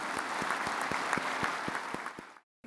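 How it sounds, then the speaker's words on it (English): Audience applause for the President of India at the inauguration of the Kempe Gowda Festival, a steady full-room clapping that holds evenly, then stops abruptly, with a few sharper claps standing out. "give a standing ovation to the President of India with a huge applause"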